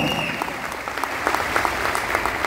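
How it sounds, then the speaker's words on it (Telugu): An audience claps steadily and fairly loudly throughout, giving a dense, continuous applause for team members at a business testimonial gathering. "మా టీం మెంబర్స్ అందరికి ఒకసారి క్లాప్స్ అండ్ గట్టిగా జోరుగా"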